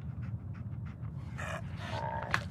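Dogmeat, the dog companion in Fallout 4, pants in quick rhythmic breaths that run steadily through the clip over low game ambience, with a few brief tonal game sounds partway through.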